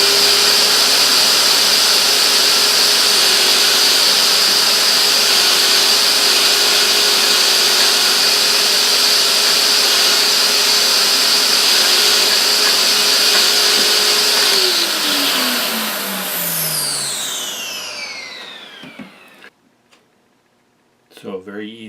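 A Eureka Precision Boss vacuum cleaner motor whirs loudly and steadily while a Scotch-Brite pad scrubs melted belt rubber off its drive shaft, then the pitch sweeps downward as the motor spins down and cuts off near the end.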